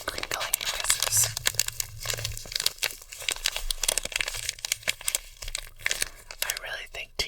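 Tea bag packets are crinkled and crumpled up close in quick, dense bursts of papery rustling for ASMR, with soft whispering beneath.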